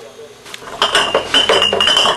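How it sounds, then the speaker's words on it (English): Glass beer bottles for home brew clink and knock against each other as they are turned right way up in a crate, a quick cluster of bright chinks growing busier after a soft start. "Turn our bottles the right way up."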